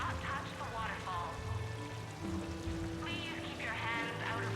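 A decorative fountain in the video game Mass Effect 3 pours and splashes steadily, with a voice talking over the continuous water.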